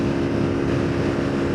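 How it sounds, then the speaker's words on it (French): A Dafra NHX 190 single-cylinder motorcycle rides along a crowded road in the rain, its engine giving a steady, close droning hum mixed with wind rush. "ça apporte juste la vibration normale d'un moteur monocylindre"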